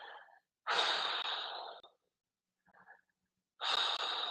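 Two long, airy breaths during a yoga stretch, a forceful exhale followed later by another, with a faint soft breath between them, close and with no talk.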